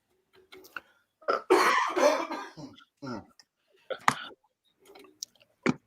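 A few sharp, close coughs and throat-clearing bursts separated by short silences.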